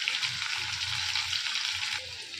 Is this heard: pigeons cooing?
no